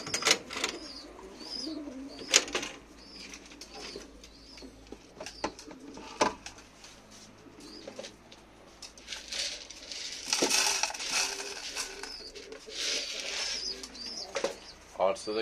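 Pigeons cooing near a coop while being fed, soft repeated coos mixed with pecking, crunching grain and clattering, with someone talking intermittently throughout.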